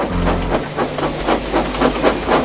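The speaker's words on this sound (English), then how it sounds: "Soon the line ahead was clear, and Thomas set off with Annie and Clarabelle." A steam locomotive from the Trainz video game sets off, giving rhythmic chuffing puffs of hissing steam at a steady beat over a low rumble, loud and close.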